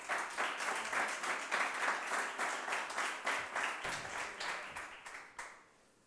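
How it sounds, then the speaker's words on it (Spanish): Audience applause at a startup demo day in a coworking space, a lively burst of rhythmic clapping that holds steady and then tapers off quickly near the end. "le damos un fuerte aplauso"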